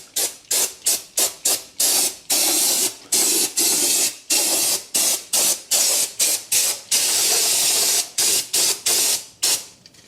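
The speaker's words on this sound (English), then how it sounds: "So out with the brake clean." Brake cleaner aerosol sprayed onto a Land Rover 300TDI sump pan and its mating surface, in many short sharp hissing bursts of varying length, loud and close, with no talking.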